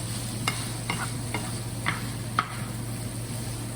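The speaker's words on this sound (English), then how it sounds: "we're going to mix it around to get all those spices through" Spiced empanada filling stirred in a pan: soft, faint scraping and clicks of a utensil against the pan at an irregular pace over a steady low hum, with a light sizzle beneath.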